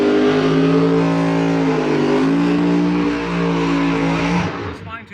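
Outlaw Big Tire drag race car on its first outing, engine roaring loud and steady with strong harmonic tone, then cutting off abruptly near the end as it launches away.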